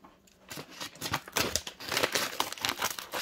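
Scissors snipping open a chewing gum package, with crinkling and crackling of the plastic wrapper as it is cut and handled, close and fairly quiet.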